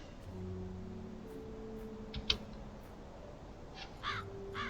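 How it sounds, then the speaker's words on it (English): Crow cawing in the video game Black Mirror 3, a few short harsh caws at medium distance over a low ambient drone, with a louder call near the middle and another pair near the end. "Hello, Crow."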